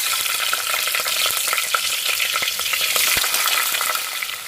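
Onion and green chillies frying in oil with cumin and asafoetida for drumstick sambar, a dense close sizzle with light stirring clicks, loud and steady with no talking.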